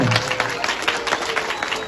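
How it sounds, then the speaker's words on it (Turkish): An audience at the closing event of a summer Quran course applauds the mayor, with a dense, steady wash of clapping throughout. "belediye başkanımıza kocaman bir alkış rica ediyorum sizden"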